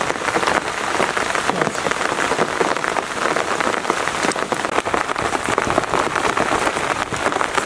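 Steady rain pours down in a Himalayan village, a dense continuous patter of drops striking surfaces with no voices and no pause throughout.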